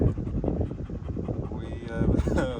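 A young, muscular dog pants in quick, close breaths outdoors, with voices and a brief whimpery whine over the panting near the end.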